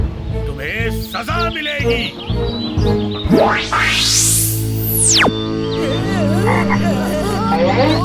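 A cartoon frog king croaks loudly among other cartoon frog croaks, with a rising and falling whistle-like swoop in the middle and a voice speaking briefly over it.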